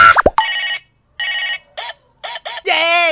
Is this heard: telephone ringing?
yes